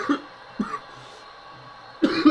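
Someone coughs three times, two short dry coughs close together and then a harsher burst a moment later, with quiet room tone between them.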